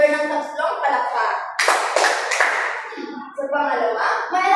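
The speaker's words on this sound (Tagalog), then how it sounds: "Bigyan natin si Jennifer ng tatlong palakpak." A short burst of classroom applause, three claps given to a pupil in a Filipino lesson, rising between bursts of children's and a teacher's talk.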